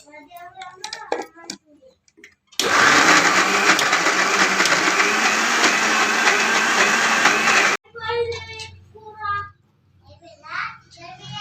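A kitchen mixer grinds corn batter for makka garelu, a loud, steady motor roar with a grainy churn that runs about five seconds and stops abruptly. Speech comes before and after the grinding.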